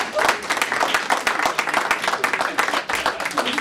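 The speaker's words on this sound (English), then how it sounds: "We'll all stand and cheer." Audience applause and cheering as a crowd rises in a standing ovation, dense steady clapping with crowd noise throughout.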